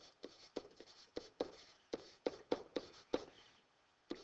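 A marker or chalk taps and scratches across a board in irregular short strokes while letters for a geometry lesson are written, close and fairly quiet, with no talking.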